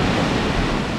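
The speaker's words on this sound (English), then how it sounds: "Morning brought impressive seas" Heavy ocean surf on the Coromandel coast of New Zealand during Cyclone Fergus roars as a continuous loud wash of breaking waves, dense and unbroken, mixed with wind rush.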